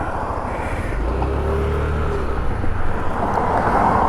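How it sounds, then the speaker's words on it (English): Cars speed along a street, a loud, steady roar of road traffic with one vehicle swelling as it rushes past midway before the noise settles back into a continuous wash. "people haul ass down the street"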